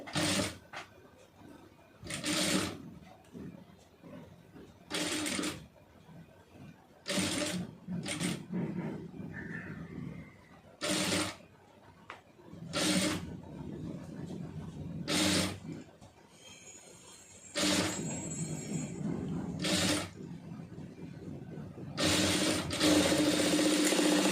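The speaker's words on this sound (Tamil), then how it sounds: "கரெக்டாக பார்த்து நிதானமாக தைச்சிக்கிறோங்க" A tailoring sewing machine stitches a puff sleeve in repeated short runs of rapid mechanical clatter, each lasting a second or two, separated by quieter pauses and fabric handling, close and with no talking.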